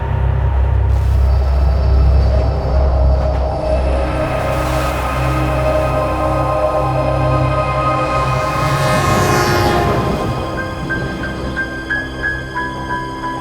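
Steady low rumble of a passenger train travelling toward Mumbai, with continuous rail and carriage noise throughout and a faint tonal squeal near the end.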